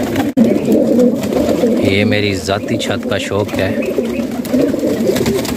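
Fancy pigeons coo on a private rooftop in low, repeated pulses, the calls running beneath someone talking nearby.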